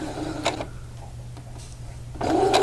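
A sewing machine stitches quilt pieces in short bursts, a brief run near the start and a steadier stretch at the end, with quiet pauses between and no talk.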